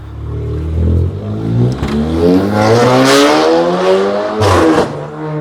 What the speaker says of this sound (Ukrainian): Ужас, як БМВ репить, я думаю, ви її чули.